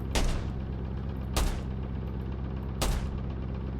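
A tank in Craftopia fires three evenly spaced heavy shots with the wrong ammunition. Each is a sharp close crack with a short booming tail over a low engine drone, and no one speaks.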